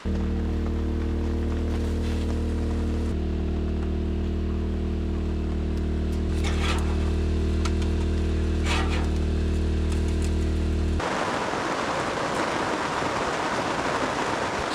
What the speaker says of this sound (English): We'll see when the rain stops.